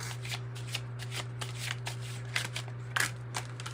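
Tarot cards being shuffled by hand during a reading, a run of soft riffling bursts and crisp flicks over a steady low hum, with no talking.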